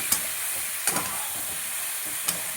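Fish and cauliflower sauté in hot oil with a continuous, close sizzle and hiss, broken by a few sharp pops and stirring clatters.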